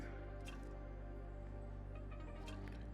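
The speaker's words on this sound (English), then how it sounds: "It's gonna take a bit of time because you're pumping it out, it's not draining." An extractor pump draws old engine oil out of a 2015 VW Jetta, giving faint, quiet liquid drips and soft squishing gurgles with no talking.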